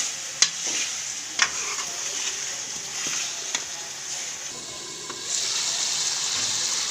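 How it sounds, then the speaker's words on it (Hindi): Potatoes sizzle steadily as they fry in a pan while a utensil scrapes and clacks against it a few times, the frying hiss swelling louder near the end. "तो आलूओं को पहले हम अच्छे से भूनेंगे"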